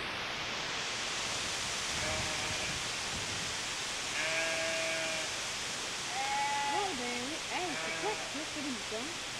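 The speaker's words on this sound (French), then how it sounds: "c'est le son d'un mouton." A sheep bleats several times, wavering cries rising and falling over a constant loud background hiss, the calls clustering in the second half and sounding fairly close.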